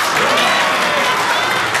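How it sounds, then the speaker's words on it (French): An audience bursts into loud, sustained applause after a campaign promise at a school presidential election speech, close and dense with steady clapping throughout. "Pourquoi ils applaudissent?"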